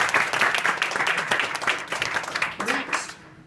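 A wedding crowd claps and applauds in a reception room for New Zealand guests, a dense burst of hand claps fading toward the end, with some voices mixed in.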